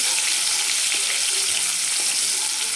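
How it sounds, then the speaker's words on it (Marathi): Chopped onion fries in a pan after a pinch of asafoetida, producing a steady, dense, close sizzle with a few faint stirring clicks and no voices. "आपण कांदा कट करून घेतला होता ते टाकतो आणि छान तळून घ्यायचा आहे कांदा एकदम"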